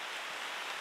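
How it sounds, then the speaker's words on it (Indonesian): Steady rain falls during an outdoor talk, a dense, even hiss with no distinct drops or gusts and no voices over it. "ini hujan nggak apa-apa, kita lanjut aja ya teman-teman ya"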